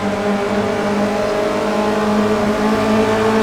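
A race car engine heard from on board during a touring car race at Croft circuit, a loud, steady high-revving drone holding close and constant throughout.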